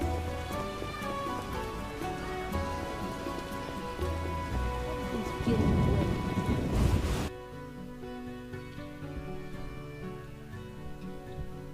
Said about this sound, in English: It rains so often in this game.